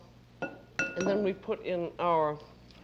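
Eggs go into a mixing bowl during a French kitchen demonstration of babas au rhum, with light clinks of a bowl and utensils mixed among voice-like sounds at close range.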